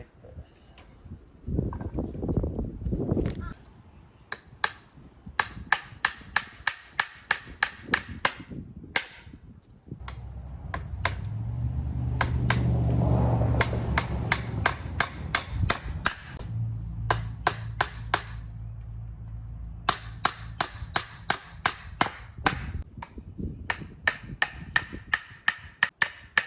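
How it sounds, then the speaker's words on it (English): Hammer blows nailing wooden side pieces onto a rabbit cage, sharp repeated strikes in quick bursts with pauses between, close and loud over a low workshop hum and some handling noise. "nailing those into the sides of these like this"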